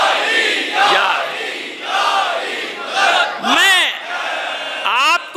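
A majlis audience shouts the slogan of Ali, a crowd answering in loud bursts of chanting and cries that rise and fall several times, with sharp swooping whoops near the end.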